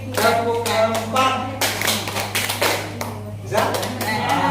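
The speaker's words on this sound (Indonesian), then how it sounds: "Tepuk empat," Rhythmic hand clapping in a group activity, a series of sharp, close claps in an even beat mixed with a speaking voice over a steady low hum.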